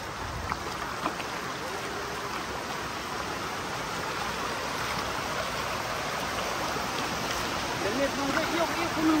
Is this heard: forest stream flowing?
yes